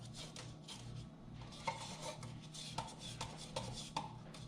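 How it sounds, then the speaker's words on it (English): Eggs being mixed with cornstarch and sugar in a bowl for pastry cream, a steady low scraping and whisking rumble with occasional sharper clinks against the bowl, close and continuous, no talking. "I'm going to mix my eggs and my cornstarch and sugar mixture"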